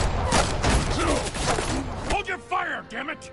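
Gunfire in a film scene: a dense, continuous rattle of shots fills the first two seconds, then gives way to shouting voices amid lingering clatter.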